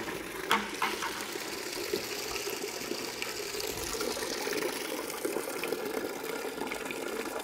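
Water runs steadily through a Hydraway basement drainage pipe, a continuous hissing gush of moderate level with a few small splashes and knocks, and no speech.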